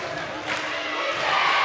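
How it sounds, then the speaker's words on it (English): Loud, sustained roar from a home basketball crowd during free throws in a high school game, a dense wall of voices that swells toward the end. "Columbia crowd getting loud for these big free throws"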